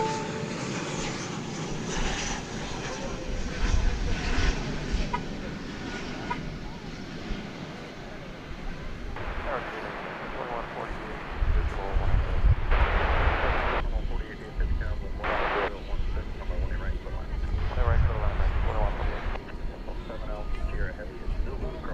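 American Airlines Flight 3081, an Airbus A321 from Los Angeles, arrives at DFW Airport with a broad, rushing jet roar that builds and swells in surges, heard from the ground.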